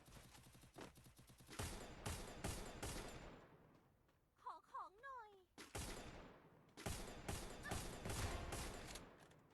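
Gunfire from the Free Fire mobile battle game rattles in quick repeated bursts, breaking off for a moment of short chirping game effects before the shooting resumes, loud and continuous.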